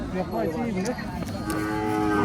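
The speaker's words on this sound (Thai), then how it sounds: "นี่วัวเจ็ดเดือน" A seven-month-old cow at a cattle and buffalo market lets out a loud, drawn-out moo that wavers in pitch, set against busy outdoor market noise.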